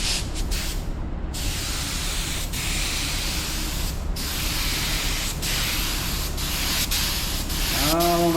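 A Hart spray gun sprays paint onto a car bumper, giving a loud, steady hiss that runs without a break, with a few brief dips and a faint tonal whine near the end.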